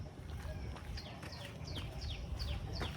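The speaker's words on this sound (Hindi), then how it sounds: "पक्षियों की आवाज़ सुन लो कितनी प्यारी लगे सवेरे सवेरे।" Birds near a cowshed at early morning give a quick series of short, high chirps repeating every half second or so, faint and fairly distant over a low outdoor rumble.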